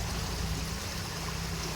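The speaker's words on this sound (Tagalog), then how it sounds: "napakalakas yung agos ng tubig kasi mababaw lang rito eh" Strong current of water rushing over a shallow stream, a dense continuous roar of flowing water heard up close with no pauses or talking.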